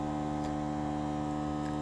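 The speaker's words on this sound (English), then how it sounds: "pardon the air compressor" An air compressor runs steadily in a workshop while a new Hyper Tough push mower is assembled, a constant low droning hum with stacked tones, fairly quiet and unchanging throughout.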